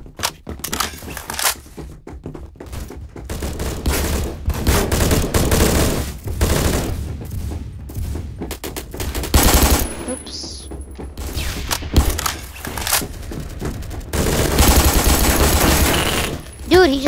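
P90 submachine gun fire in Phantom Forces, rapid bursts of automatic shooting chattering throughout, close and loud, mixed with other gunfire and occasional thuds while a voice talks over parts of it.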